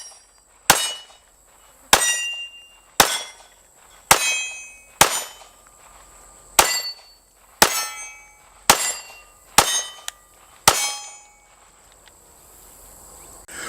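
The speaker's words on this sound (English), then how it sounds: "lock the slide back and force a mag in the mag well to see if it will charge on its own" Sharp metallic clacks from a Canik TP9SF Elite 9mm pistol as its locked-back slide and a magazine forced into the mag well are worked, about ten crisp, close impacts spaced roughly a second apart with ringing tails and no voices.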